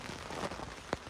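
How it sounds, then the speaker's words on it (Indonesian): Rain falling outside on Mount Agung in the night before dawn, a faint, steady wash of patter with one brief sharper drop tapping close by. "Sampai sekarang hujan terus."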